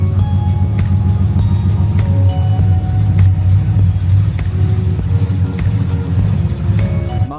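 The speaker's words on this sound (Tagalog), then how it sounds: "Ilalabas ko na ang Escalade dito." A Cadillac Escalade's engine rumbles steadily as the SUV pulls out, with a deep, continuous drone that swells slightly as it moves. The sound is close and loud, and no one speaks.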